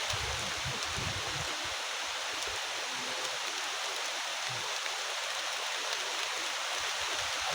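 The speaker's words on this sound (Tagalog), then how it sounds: "Baka pong yan ang lakas na ulan." Heavy rain pours down in a dense, constant broadband hiss, with intermittent low rumbling thumps beneath the steady wash.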